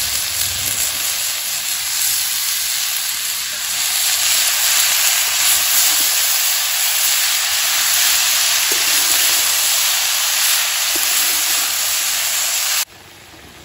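Beto shak greens hit a hot pan with green chillies and sizzle loudly and steadily, a dense, close frying hiss that lasts throughout with no talking.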